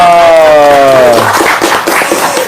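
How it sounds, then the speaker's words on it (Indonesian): An audience at a religious talk bursts into loud, dense clapping just after a short spoken word. The applause swells and keeps going at close range until the end. "Tepuk tangan"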